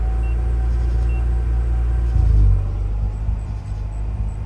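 A 2004 Mazda RX8 rotary engine idling roughly after sitting for two years, running lean and close to stalling, a loud low rumble that dips and swells briefly before settling unevenly.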